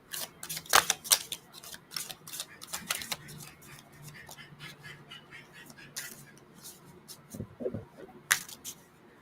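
Tarot cards being shuffled by hand, giving quick papery riffles and snaps in uneven bursts, close and moderately quiet, with a few soft knocks and no talking.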